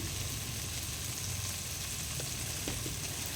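Mushroom gravy fries in a pan as coriander powder goes in, giving a soft, even sizzle with low bubbling underneath and no voices.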